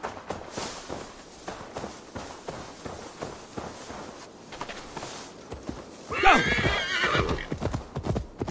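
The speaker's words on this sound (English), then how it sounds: "Now to deliver Magni his horse" Steady clip-clop of horse hooves walking in the video game Assassin's Creed Valhalla, followed by a loud horse whinny near the end, with faint background ambience throughout.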